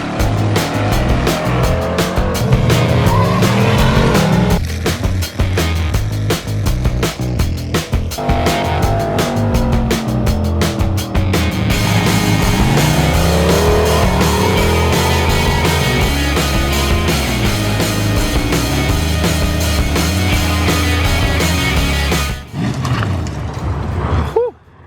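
A big turbocharged street truck screams down a bare street, its engine roaring loud and sustained as it revs up and down, with tires squealing over long stretches before the noise cuts off near the end.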